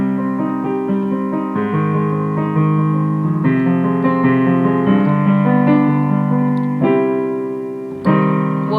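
Rolled piano chords from Dollhouse by Melanie Martinez ring out one after another in a close, clear sequence, each chord sustaining before the next, with no talking.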